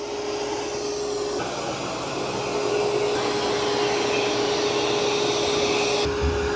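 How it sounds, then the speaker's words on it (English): An Ecovacs Deebot N20 Plus robot vacuum works across carpet with a steady, close whirring drone and a constant motor whine, its level shifting slightly as it moves, with no talking. "Pretty good job of vacuuming."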